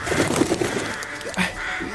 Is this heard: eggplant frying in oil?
no